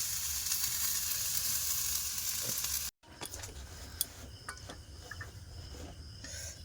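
Onion and sauce sizzle in a pan, a bright continuous hiss that cuts out briefly, then returns quieter with clicks of a utensil stirring and faint chirping insects behind it.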